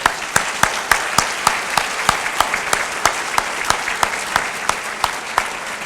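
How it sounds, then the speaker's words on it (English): An audience at a county teachers-of-the-year ceremony claps steadily, with evenly spaced sharp claps standing out over a dense wash of applause, loud and sustained throughout. "How about a round of applause for..."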